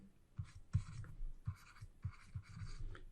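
Pen writing on paper while working a hyperbola math problem, with close, quiet scratchy strokes in short bursts separated by brief pauses.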